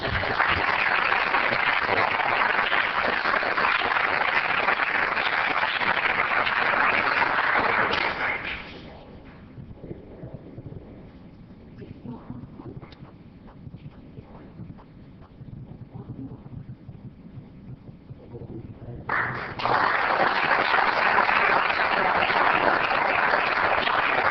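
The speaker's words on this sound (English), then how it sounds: "Let's have Charles celebrate with a round of applause." Applause at a city council meeting during a service awards presentation, with two loud bursts of steady clapping from a sizable audience separated by a quieter stretch of murmuring room noise.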